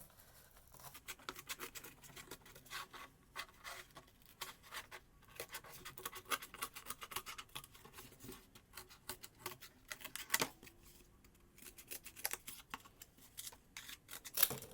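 Quiet, irregular snipping and crunching as scissors cut through cardboard, close up, with scratchy rustles between cuts.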